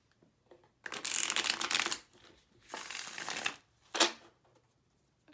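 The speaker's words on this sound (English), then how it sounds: "And I will shuffle it for you guys. It shuffles perfectly," A trimmed Thoth tarot deck is riffle-shuffled in three bursts: a long papery riffle, a shorter second pass, and a quick final snap, close and crisp with no talk.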